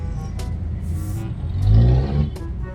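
Heavy Manila road traffic drones steadily, a mix of car and truck engines with a swell of revving near the middle and brief sharp hisses like air brakes, close and loud with no talk.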